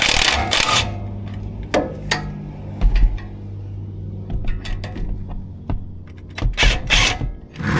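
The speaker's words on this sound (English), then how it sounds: "a 17 millimeter will remove the two bolts that hold the caliper onto the knuckle" A 17 mm socket wrench ratchets out the caliper bolts on a 2006 Toyota Tundra, giving irregular bursts of close metallic clicks and knocks. Short pauses fall between the bursts.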